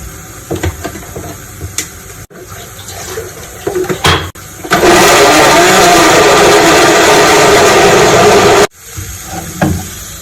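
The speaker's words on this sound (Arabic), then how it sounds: "هحط بقى الميه تغلي هنا علشان المكرونه" Water gushes loudly from a tap into a pot to be boiled for pasta, a steady rush lasting about four seconds between quieter kitchen clatter.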